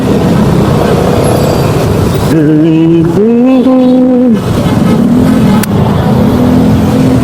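Heavy street traffic in Las Piñas with a car engine revving up sharply mid-stream, pitch climbing and holding before easing back into the dense, loud rumble of passing vehicles.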